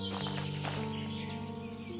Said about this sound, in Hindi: अरे वाह, इस पेड़ पर तो बहुत सारे पक्षी हैं।